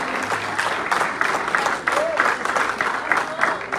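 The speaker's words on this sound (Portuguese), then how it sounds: "aplauda o Senhor Jesus" Church congregation applauding, a steady dense patter of many hands at moderate volume sustained throughout, with a voice speaking over it.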